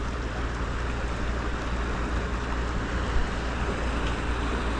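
A swollen river after winter storms in Williamson, West Virginia, rushes past a small dam as a continuous broadband roar with a deep low rumble underneath, steady and fairly loud from start to finish.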